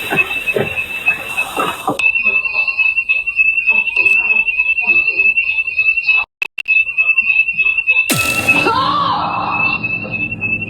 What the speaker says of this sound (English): Something sets off the alarm